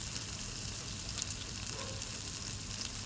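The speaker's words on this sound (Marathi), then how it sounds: "आता इथे सर्व मसाले चांगले असे परतवून घ्या" Onion, garlic, ginger and cashews frying in a pan make a faint, even, low hiss with almost no change from start to finish.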